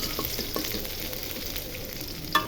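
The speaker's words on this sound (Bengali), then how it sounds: "এখন রসুন কুচি দিয়ে দিব। রসুন কুচি দিয়ে একটু ভেজে নেব।" Chopped garlic fries in hot oil alongside already fried chillies, a dense continuous sizzle close up with light stirring scrapes and a sharp clink near the end.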